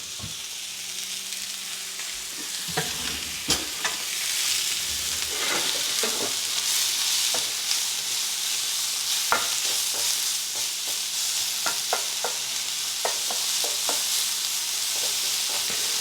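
Cabbage searing in a hot pan with balsamic, a steady loud sizzle punctuated by repeated scrapes and clicks of stirring, no voices.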